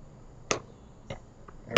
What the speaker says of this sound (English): I'm going to take my scissors. I'm going to cut my line